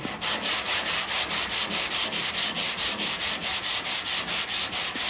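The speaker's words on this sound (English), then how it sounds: "gotta sand this bottom part right here" Body filler on a car panel being sanded by hand, a steady rhythmic rasp of roughly twenty even back-and-forth strokes, close and loud with no talking.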